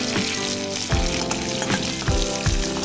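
Bay leaf, whole garam masala and cumin seeds sizzle in hot oil left from frying pointed gourd, a steady loud crackle with a few sharper pops and stirring scrapes throughout.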